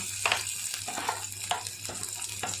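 Green chillies and then onions frying in hot oil for a cucumber and peanut curry make a steady close sizzle, with sharp crackling pops and occasional stirring scrapes throughout.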